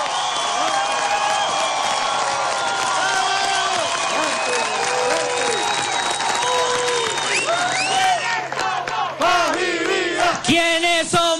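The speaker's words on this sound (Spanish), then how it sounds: "Y un aplauso bien fuerte" Crowd at a political anniversary event for the Movement for Peace and Life breaks into loud, sustained applause with cheers and shouts, close and continuous, rising into whoops and rhythmic chanting near the end.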